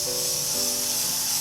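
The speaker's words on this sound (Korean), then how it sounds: "로레알 에르네트 스프레이를 이용해주세요. 그래서 빗에다가 뿌려주시는 거예요" L'Oréal Elnett hairspray sprays onto a comb in one short, steady aerosol hiss, close up and alone.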